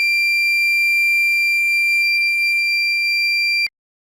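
A loud, continuous high-pitched electronic buzzer tone from a water tank overflow indicator circuit sounds steadily, then cuts off abruptly into silence.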